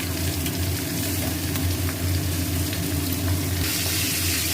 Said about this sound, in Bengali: এবার এটা ভালো করে কষে নেব